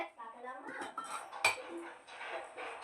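A spoon stirs salt into rice porridge in a glass, making repeated light clinks and scrapes against the glass, fairly close, with a faint voice in the background.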